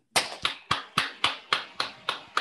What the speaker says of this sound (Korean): 찬탄합니다 하는 박수 한번 쳐주시오.